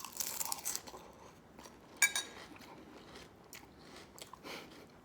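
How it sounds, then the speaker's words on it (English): Crunchy cereal is bitten and chewed up close, with irregular crisp crunches and softer chewing between them, with no talking. "eating cereal."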